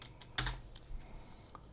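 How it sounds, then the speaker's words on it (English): Quiet typing on a computer keyboard: a few soft key taps followed by a slightly louder cluster of presses, close and with no voices. "So let's press tab and type light."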